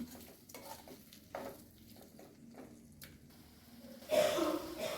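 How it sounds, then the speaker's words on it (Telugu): Prawns tossed with masala in a pan, quiet wet stirring and scraping strokes over a low sizzle, swelling into a louder burst of frying near the end, with no voices. "మసాలా అంతా రొయ్యలకి పట్టేటట్టు కలుపుకుందామండి"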